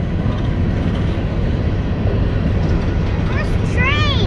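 A BNSF freight train with a CN distributed power unit rolls past at Palmer Lake, Colorado, a steady loud low rumble of railcars throughout, with high squeals from the wheels near the end as people talk over it.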